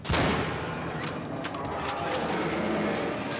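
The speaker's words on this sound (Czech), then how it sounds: "Tak já to asi vystřílím teď." Dense, continuous bursts of rapid gunfire from the video game Cryostasis crackle loudly throughout, with sharp reports layered over a constant noisy wash.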